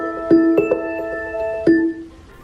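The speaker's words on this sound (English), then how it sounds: "You can only just trigger an alarm, which just makes a nice little noise" An Apple HomePod smart speaker plays its alarm, a bright chime of ringing, bell-like tones struck three times over a couple of seconds, clear and close in a quiet room.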